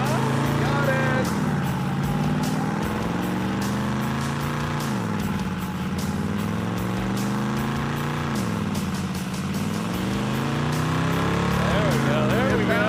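Big-block 455 engine in a 1970 Buick GS, pinging badly, running steadily near 2,900 RPM with a loud continuous drone that dips and rises in pitch, with voices in the background.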